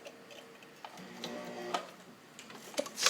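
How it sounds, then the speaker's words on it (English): A restored vintage Universal zigzag sewing machine made in Japan sews a short-length zigzag satin stitch through four layers of fabric, a close, quick rhythmic ticking and whirring with light clicks. "I'm going to shorten it so you can see that it can actually do a satin stitch"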